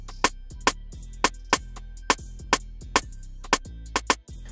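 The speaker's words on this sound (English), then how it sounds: "the rim sounds like this." A simple Afrobeat rim pattern, sharp bright clicks struck at a steady, slightly syncopated pace over a sustained low bass tone, alone and close.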